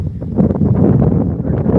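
Wind buffeting an outdoor microphone, a loud, continuous low rumbling roar with gusty fluctuations and no clear pauses.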